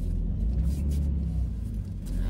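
Steady low road traffic rumble heard from inside a van driving through heavy traffic near Seattle, a continuous muffled drone with no break.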